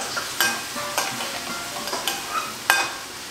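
Vegetables sizzle in a hot pan with sauce while a utensil stirs them, producing a steady frying hiss broken by several sharp scraping strokes, close and fairly loud, with no talking.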